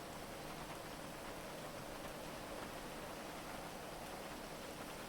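Steady rain falls with an even hiss of drops on surfaces outdoors, faint and unbroken for the whole stretch, with no voices over it.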